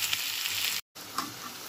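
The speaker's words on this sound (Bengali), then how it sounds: "তো এই যে এখানে পটল চলছে ভাজা" Pieces of pointed gourd (potol) frying in oil in a pan, a bright steady close sizzle broken by a momentary cut to silence, then resuming with a few soft pops.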